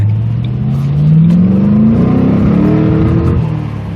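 A Ford Mustang GT running on E85 revs up to 5,000 RPM, its engine note climbing smoothly and loudly up close before holding at a rough, strained plateau, with no talking.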